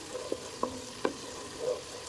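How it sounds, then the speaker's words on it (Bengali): Onion and ginger paste with ground spices frying in a pan for chicken biryani, a soft steady sizzle with a few light scrapes and taps of a spoon stirring, quiet and close. "এটাকে এখন ভালো করে একটু ভেজে নিব"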